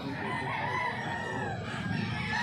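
A White Kelso rooster crows amid a busy poultry yard, its call rising over steady background clucking and farm noise at moderate distance.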